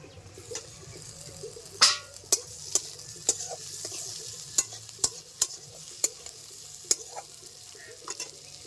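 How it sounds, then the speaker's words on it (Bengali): Boiled potatoes and fried chopped onions fry in a pan with a constant low sizzle, punctuated by sharp spatula scrapes and clinks against the pan at irregular intervals. "পেঁয়াজ ভাজা হয়ে গেছে দিয়ে দিচ্ছি সিদ্ধ করা আলু"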